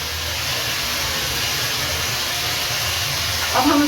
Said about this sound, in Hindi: अब हम इसको अच्छे से भून लेते हैं।